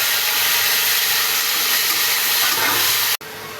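Tomato goes into hot spiced oil in a pan while cooking a fish curry, giving a loud, continuous sizzling hiss close by. The sizzle cuts off abruptly near the end, and no one speaks.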